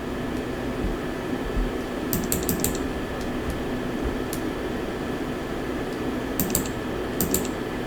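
A computer keyboard is pressed in a few quick clusters of sharp clicks, a short burst near the start and another near the end, over a steady hum of background noise.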